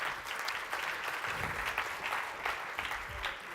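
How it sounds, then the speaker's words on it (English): An audience at a talk on agile transformations breaks into sustained applause, many hands clapping in a full, steady wash with small swells and no voices on top. "please give everyone a round of applause"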